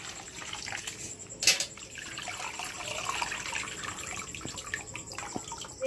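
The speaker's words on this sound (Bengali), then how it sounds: "চাউমিনটা ঠান্ডা জল দিয়ে ভালোভাবে ধুয়ে আবারও জলটা কিন্তু ছেঁকে নেব" Cold water runs and splashes steadily as boiled chow mein noodles are rinsed and drained in a colander over a bowl, with a brief louder splash partway through.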